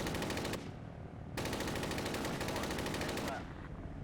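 Rapid automatic gunfire in Arma 3 during a recon mission, shooting at an MRAP on a road: dense sustained bursts, loud and close, with a brief lull between two long volleys.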